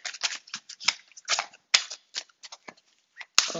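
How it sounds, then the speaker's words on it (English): A deck of tarot-style cards is shuffled by hand in a quick series of close, crisp riffling bursts with short pauses between them. "I could take my time with these shuffles"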